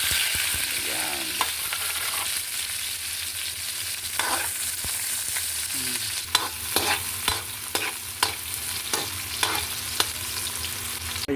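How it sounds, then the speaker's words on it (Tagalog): Clams cooking in a pan with garlic, onion, chayote and lemongrass, giving a steady sizzling bubble with occasional stirring clinks and scrapes throughout, no voices. "Ayan na guys, kumukulo na oh"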